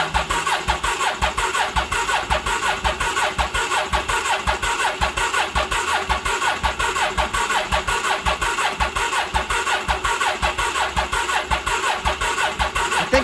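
Starter motor on a 1983 Honda Shadow VT750C motorcycle cranks continuously for over thirteen seconds, a loud, near, evenly pulsing whir-chug that never catches, with no speech over it.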